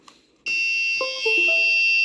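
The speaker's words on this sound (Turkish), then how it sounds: "Gece ortamında ledimiz yanıyor, buzzer'ımız ötüyor." A loud, steady electronic buzzer tone from an LDR light-sensor circuit, triggered in darkness, starts abruptly and holds continuously, with a few brief lower tones shifting beneath it.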